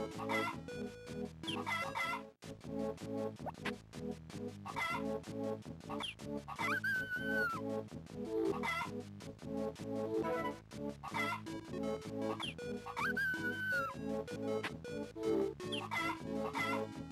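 Clucking and crowing chicken effects from the Harvest Moon game Friends of Mineral Town repeat in a looping pattern over constant busy game music, several squawks in each cycle.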